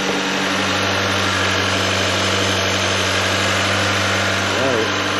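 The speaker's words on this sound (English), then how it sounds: "It's a powerful air compressor." A powerful portable off-road air compressor runs steadily with a loud, continuous droning hum and vibration, holding an even level throughout with a slight shift near the end.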